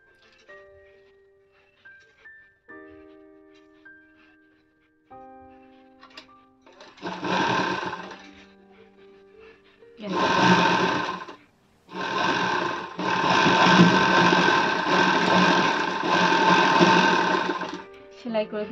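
A sewing machine stitches a pad into a princess-cut blouse, running in several loud bursts separated by pauses, with someone talking and brief tonal sounds in the quieter stretches beforehand.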